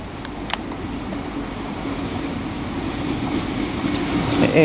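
Great Western Railway Class 802 train from London Paddington to Taunton passing through Reading West, a steady low rumble of wheels and carriages that swells gradually louder as it nears, with faint squeals near the end.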